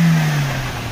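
A car engine straining up a steep mountain road near Lachung, Sikkim, with a loud, steady low drone and a slightly falling pitch as it labors uphill.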